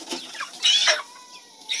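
Broiler chickens, under 50 days old and about 3 kilos, clucking and chattering nearby in short bursts on a poultry farm, with a few sharper calls rising over a steady background.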